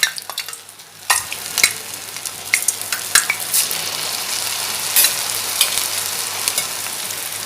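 Murukku dropped into hot oil set off a sharp crackling sizzle that swells after a quiet start and continues steadily, with scattered bright pops and a few utensil clicks.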